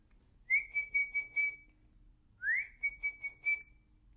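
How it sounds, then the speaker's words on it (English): A person whistles two short phrases, each a rising note followed by a quick series of clear repeated chirps, close and alone in a quiet room. "Do you know how to whistle?"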